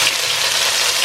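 Sliced onion frying in a shallow layer of oil for chicken biryani, a steady close hiss and sizzle that holds evenly throughout.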